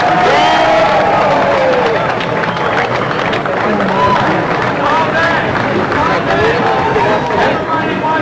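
A gathered crowd at a street juggling show in Allen Square at sunset, a dense, steady roar of cheering and chatter held loud and close for the whole stretch, with no distinct claps standing out.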